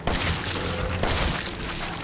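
Gunfire in the horror video game Resident Evil 7: two booming shots land about a second apart over a dense, rumbling game background.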